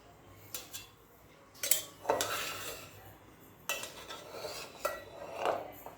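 Spoon scraping and clinking against a cooker pot while loosening cooked coconut rice for sweet narali bhat, a few distinct metallic knocks and scrapes at an uneven pace, close and clear, no talking.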